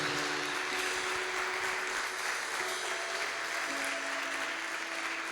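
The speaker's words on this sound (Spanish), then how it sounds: "Le damos un aplauso de bienvenida" Church congregation applauding to welcome someone speaker, a steady continuous round of clapping at moderate distance throughout, with a faint tonal hum beneath.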